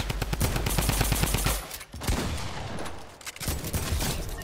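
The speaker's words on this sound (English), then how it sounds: "Drum gun!" Drum gun firing in the Fortnite Battle Royale video game, a loud rapid automatic burst lasting over a second, followed by further scattered gunfire and shots.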